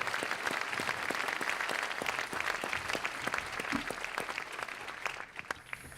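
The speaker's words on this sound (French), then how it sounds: "Olivier Orsay, sous vos applaudissements" An audience applauds Olivier Orsay at the Prix des Neiges 2018 award ceremony, a dense, even patter of many hands that continues steadily throughout, moderately distant, before thinning slightly at the end.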